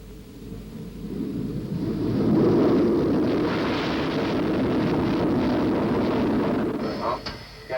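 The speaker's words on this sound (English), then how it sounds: "The Jaguar was cleared for its first takeoff." SEPECAT Jaguar jet aircraft on its first takeoff, a heavy roaring rumble that swells over the first two seconds and holds steady and loud before easing off near the end.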